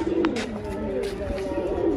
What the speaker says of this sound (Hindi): तीन चार कबूतर आ गए